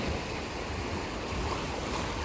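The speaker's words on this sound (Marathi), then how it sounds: "जी समोर जी लाटा येतात पायाला जी लागतात ना" Sea waves wash in at night with a steady broad rushing roar, continuous and close, with wind-like noise and no voices.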